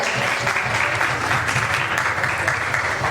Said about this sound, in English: And round of applause, people.